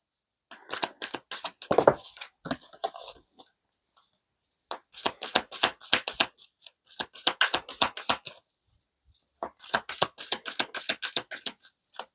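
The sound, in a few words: tarot cards being shuffled and drawn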